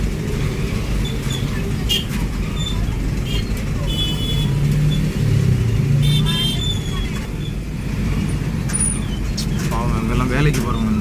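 Dense highway traffic near Nellore crawls in a jam: a continuous low rumble of cars, buses and motorcycles, with scattered horn toots and voices mixed into the steady roadway noise.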